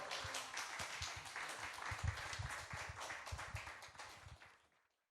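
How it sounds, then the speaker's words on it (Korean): Members of a church congregation at a Monday pastors' prayer meeting clap together in praise, a dense burst of many hands that runs steadily and then fades out toward the end, with no voices over it. "다 함께 하나님께 박수를 올리며 할렐루야 하겠습니다"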